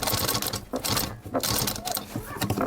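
Sewing machine running a reverse stitch on fabric, with rapid mechanical clatter in short bursts and brief pauses between runs, close and loud.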